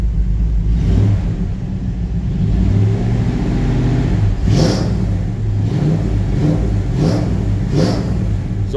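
A 1957 Chevy 3100 Stepside pickup idles with a deep, loud exhaust rumble, then is revved several times in short bursts rising above the steady idle.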